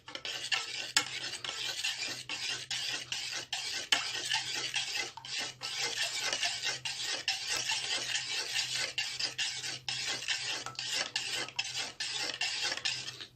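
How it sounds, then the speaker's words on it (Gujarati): Pineapple ice cream ingredients being stirred and mixed in a bowl, a steady rhythmic scraping and rasping of the utensil against the bowl that repeats throughout, close and fairly loud, with no talking. "આને બરાબર મિક્સ કરી લઈશું."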